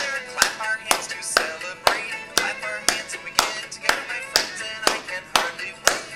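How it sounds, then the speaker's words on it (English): Hand clapping at a public library birthday story time: sharp, evenly spaced claps about two per second, with a voice talking or singing between them. "We clap our hands and we get it together."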